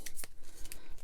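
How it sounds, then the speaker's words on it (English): A deck of low-quality game cards of mixed sizes being reshuffled by hand, giving a quick run of crisp papery riffles and slaps, close and moderately loud. "I'm going to go ahead and reshuffle this card"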